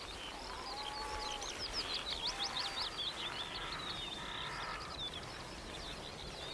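Several birds call and chirp at dawn in the Brecon Beacons uplands near Pen y Fan, a mix of rapid chattering notes and harsher caws layered over a soft, steady background hiss, moderately distant with no talk.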